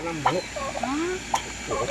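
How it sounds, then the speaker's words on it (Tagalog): Rapid warbling turkey gobbles and clucks close by, a few bursts over a couple of seconds with some background noise. "May pabo pa dito, oh."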